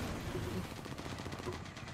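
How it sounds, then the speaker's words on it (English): Gunfire in Call of Duty Warzone: a dense, steady rattle of rapid shots at moderate volume that goes on without a break, with faint voices mixed in. "I'm getting shot at!"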